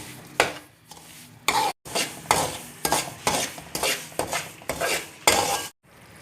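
Semolina roasting in a pan for suji and milk halva, stirred steadily with repeated scraping strokes of a utensil against the pan over a soft sizzle, close up and without talk.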